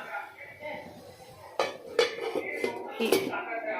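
A lid is set onto a pot of ash gourd cooking with salt and turmeric, producing a few close metallic clanks and clinks, with a voice speaking quietly beforehand.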